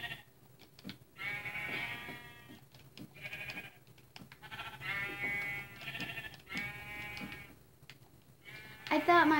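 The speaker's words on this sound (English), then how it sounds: "Shut up, sheep!" Sheep bleat repeatedly near a farm bunny hut being built, several wavering, nasal calls one after another, fairly close, with a louder bleat at the end and a person's voice mixed in.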